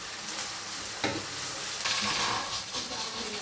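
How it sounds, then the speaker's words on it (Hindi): Ginger garlic paste fries with onions for mutton shorba karahi, giving a steady close sizzle broken by a few scraping stirs. "तो अभी इसके अंदर मैं अदरक लहसुन का पेस्ट ऐड करने लगा हूँ। इसको भी प्याज के साथ हम थोड़ी देर तक फ्राई करेंगे।"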